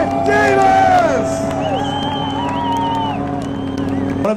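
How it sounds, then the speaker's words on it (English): A crowd at a drift competition cheers and whoops loudly, with tonal engine or horn-like sounds sweeping above the noise for a few seconds. "to hear the loudest cheer of the day"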